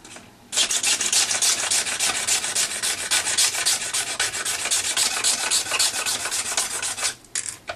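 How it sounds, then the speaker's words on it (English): Close, steady scraping on a boat keel, a continuous bright rasping stroke that starts after a brief pause and runs unbroken for several seconds before easing off near the end, with no talk. "So I'm going to scrape it till that bridge is gone."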